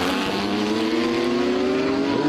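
Vintage race cars in an SVRA Group 9 race at Circuit of the Americas roar past as one loud, continuous engine note that climbs steadily in pitch under acceleration, with no voices over it.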